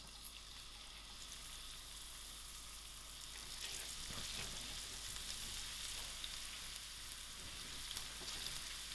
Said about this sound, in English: I will allow these onions to fry out soft